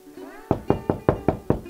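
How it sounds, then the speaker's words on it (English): Knocking on a door comes as five firm, evenly spaced raps in quick succession, close and clear, just after a short spoken phrase trails off. "he was startled by a knock at the door."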